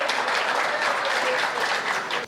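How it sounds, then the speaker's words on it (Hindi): An audience at a Hindi kavi sammelan poetry gathering claps vigorously, a brief dense burst of applause heard at moderate distance. "पूरा सदन जोरदार तालियां बजा करके इस कवि सम्मेलन को प्रारंभ करने की आज्ञा प्रदान करे"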